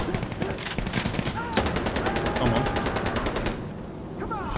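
Rapid automatic gunfire from the video game Insurgency: Sandstorm, loud sustained bursts of evenly spaced shots with brief gaps, close-up, with someone talking over the firing.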